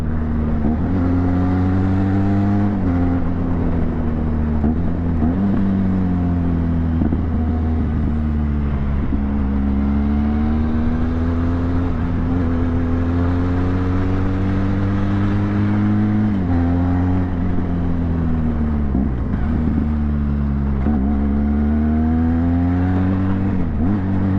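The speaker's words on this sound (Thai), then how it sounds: "ฟิลลิ่งแบบสองสูบอย่างนี้ว่ะเสียงเหมือนสามสูบจัด" A Benelli TRK520x two-cylinder motorcycle engine drones steadily while riding, loud and close, its pitch rising and falling as the rider shifts through gears, with wind noise over it and no talk.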